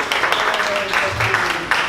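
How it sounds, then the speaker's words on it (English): Applause from a 1 Million Cups Dallas entrepreneur-meetup audience for a Transylvanian treats vendor, a continuous wash of moderate clapping throughout the short moment, with faint voices mixed in. "Round of applause for Kurtu"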